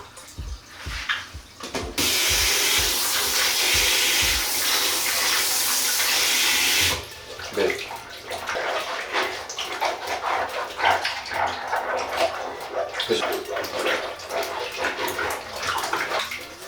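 Running water rinses goalkeeper gloves after a shampoo prewash, a loud, steady gush of flowing water for several seconds, followed by lighter splashing and sloshing as the gloves are worked in the water.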